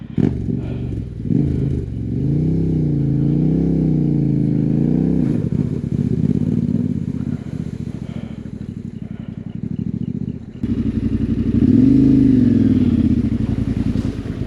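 Motorcycles ride along dirt roads through the Baviaanskloof in the Eastern Cape, their engines droning loud and close, with the pitch rising and falling under throttle changes, a brief dip, then a renewed strong run.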